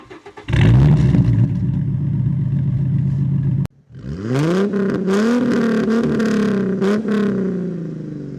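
A 1996 Ford Mustang V6 with a straight pipe and catalytic converters still fitted starts up and settles into a low, rumbling idle. After a brief cut, it revs up and down several times, loud and close.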